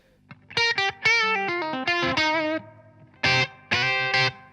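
An electric guitar plays through a clean amp with a Blues Driver overdrive pedal set at about a quarter gain, giving short bursts of lightly crunchy chords and single notes separated by brief gaps, close and clear.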